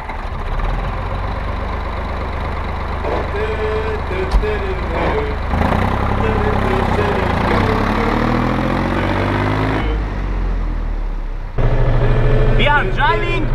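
A tractor engine cranks over and settles into a steady, loud idle, with a sharp shift partway through and brief talk over the running motor.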